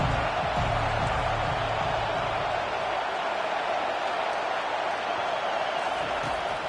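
A stadium crowd in an NCAA college football video game roars as a broad, steady wash of cheering noise, constant and moderately loud without clear individual voices.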